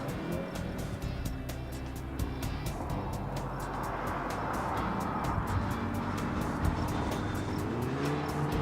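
A Volkswagen GTI with a DSG gearbox brakes hard into corners on a race track, its engine roaring loudly and steadily with a pitch that shifts under braking and turn-in, heard from inside the car with constant wind and road noise.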